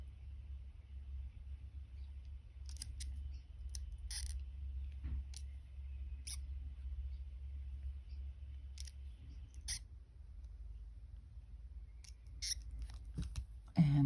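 Pliers snip thin jewelry wire in sharp, faint clicks, one after another, over a low steady background hum.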